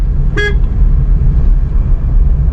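A car horn gives one short toot at a motorbike ahead, clear over the steady low rumble of the car's engine and road noise as it drives slowly in traffic.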